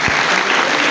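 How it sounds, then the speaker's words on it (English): A meeting audience breaks into dense, loud applause. Many hands clap together in a steady roar that fills the whole second. "can you give a hand of applause?"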